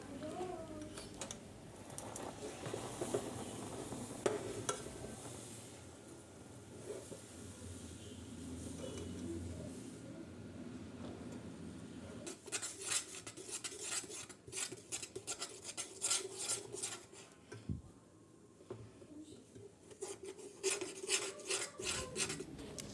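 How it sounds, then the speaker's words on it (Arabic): Sugar and milk stirred in a pan for homemade semolina basbousa, a continuous scraping, rasping rhythm of spoon against the pan bottom, close and steady throughout. "نفضل نقلب فيه لحد ما السكر كله يدوب تاني"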